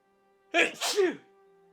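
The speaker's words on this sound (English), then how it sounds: "I'm gonna sneeze." A single close, forceful sneeze bursts out in two quick parts over a quiet steady hum, then stops.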